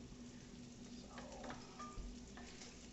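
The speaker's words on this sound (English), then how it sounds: "stir the sausage up a little bit" Sausage gravy with half and half sizzles steadily in a frying pan while a utensil stirs and scrapes through it, a soft continuous frying hiss with faint clinks.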